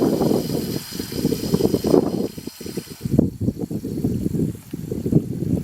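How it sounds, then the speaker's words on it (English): Water gushes steadily out of a tube on a pressurized float-valve line, a continuous close splashing flow with uneven surges that carries on from start to end. "There's the water coming out of the tube."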